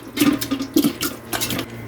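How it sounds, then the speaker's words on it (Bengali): Chicken pieces are tipped into a large cooking pot with ghee, giving a few clattering, sloshing bursts with metallic scrapes, close and fairly loud, without any talk. "এখন এই চিকেনটা পুরো আমি এই হাঁড়িতে ঢেলে দিব।"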